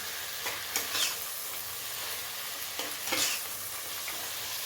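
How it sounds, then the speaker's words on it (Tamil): Soya beans and brinjal sauté in a pan with a constant soft sizzle. Occasional scraping stirs rise briefly above the frying. "சோயா பீன்ஸு கத்திரிக்காயை சேர்த்து வதக்கிட்டு"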